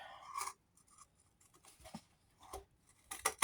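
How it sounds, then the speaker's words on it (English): Several crisp snipping bursts of scissors cutting through material, spaced irregularly with quiet gaps, close and fairly faint. "it might be easier now that I've scored it just to get my scissors and cut the rest"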